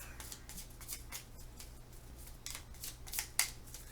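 Game cards being shuffled for a solo game of the Parks board game, a series of soft papery riffles and slaps at close range with a couple of sharper snaps near the end, no talking.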